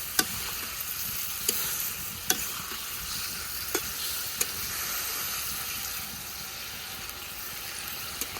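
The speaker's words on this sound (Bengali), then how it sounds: "ওখানে যে বেজে রাখা বল মাছ দিয়ে দিই মশলার মাঝে মাছটাকে খুব ভালোভাবে মিশিয়ে নিই" Pieces of fried fish are mixed into sizzling masala in a pan, giving a steady frying hiss with sharp spatula scrapes and taps spaced a second or so apart, with no voices.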